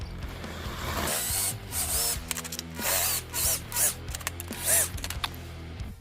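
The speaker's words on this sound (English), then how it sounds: "all I'm going to use here is a 1/2-inch drill bit. I'm going to go ahead and drill my holes." Holes being drilled with a 1/2-inch bit for a Squarebody taillight fuel filler, in short bursts of whining drill motor with pauses between, fairly close.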